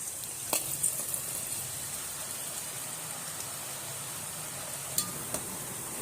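Murukku dough pressed into hot oil fries with a dense, steady sizzle and crackle, punctuated by a few sharp clicks and pops, loud and close with no talking.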